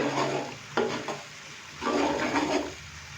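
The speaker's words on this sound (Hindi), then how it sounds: "अदरक, लहसुन और सब्ज़ मिर्च के पेस्ट को हमने हल्का सा फ्राई कर लिया है।" Ginger, garlic and green chilli paste fries in a pot, giving a close hiss of sizzling and stirring in two bursts with a softer lull between them.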